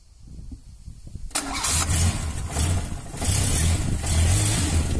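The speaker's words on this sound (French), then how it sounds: "on va démarrer la voiture pour voir le niveau sonore" Renault 4L with a holed exhaust cranking and firing up, then settling into a loud, rough, sputtering idle with uneven low pulses, close by.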